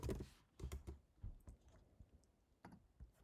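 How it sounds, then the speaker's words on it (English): Fingers typing on a computer keyboard up close: a quick run of clicky keystrokes in short bursts, soft overall, with brief pauses between groups and no voices. "Let me type print hello Python."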